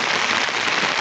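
Steady rain falls on a road, a dense, even hiss of drops that carries on without a break for the whole second.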